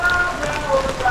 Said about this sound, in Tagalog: Doon nagsimula sa amin yung ulan.